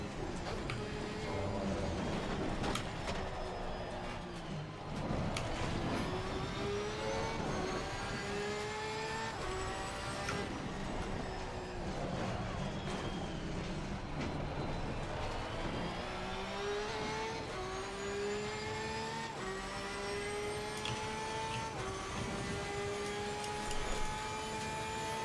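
Race car engine in a sim racing game at Bathurst, held loud and steady with rising and falling gear pitches as it accelerates and shifts through the laps, running continuously with no talk.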